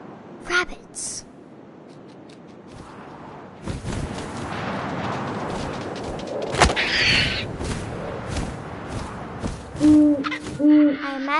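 Hooting owl in the video game What Remains of Edith Finch, a few low tonal hoots near the end following wind, rustling and a sharp thud, with a voice talking through much of it.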